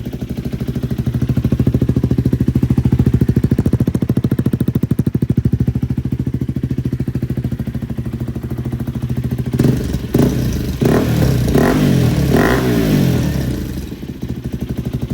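A KTM Duke 250 with a loud aftermarket exhaust idles with a steady, throbbing burble close by, then breaks into several quick, snappy revs near the end before settling again. There are no voices.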